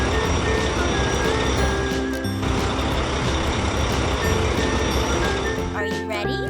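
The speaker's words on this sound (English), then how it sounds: "The colorful tow truck team rushes to the rescue." A cartoon tow truck drives along with a rapid, regular series of reversing beeps over a rumbling engine and music, and a voice speaks briefly near the end.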